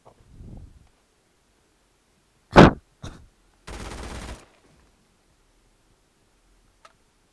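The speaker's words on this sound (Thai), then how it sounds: "ปืนที่รัวมาก" Rapid gunfire in a video game: a sharp, loud crack, a shorter shot, then a dense rattling burst of fast fire lasting under a second, separated by silence, with a faint click near the end and no talk.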